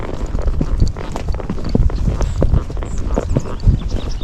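Tennessee Walking Horse hooves walking on ground outdoors, close and fairly loud, with a steady uneven clip-clop rhythm, alone without talk.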